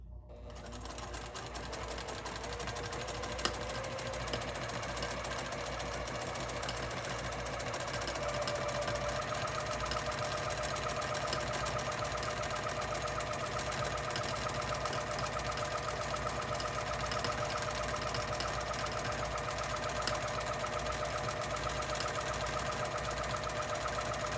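A sewing machine runs continuously in free-motion quilting of a meander pattern, a fast, even mechanical stitching chatter close by that steadies and holds for the whole stretch.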